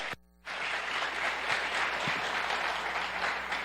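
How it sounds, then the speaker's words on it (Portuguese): Following a brief silence, a talk audience breaks into sustained applause, a dense, even wash of clapping that holds steady and fairly loud to the end. "eu quero dar uma salva de palmas para todos vocês que estão aqui nessa tarde"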